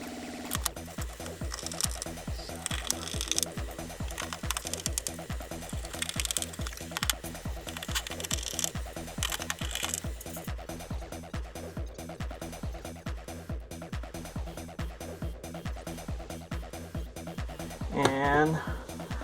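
Screws driven into an Apple IIe case, a fast rhythmic ratcheting clicking at close range that runs steadily throughout, with a short squeaky whir near the end.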